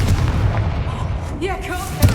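A booming spell blast in the Hogwarts Legacy video game, a short explosive burst over background game sound and music, with a voice speaking over it.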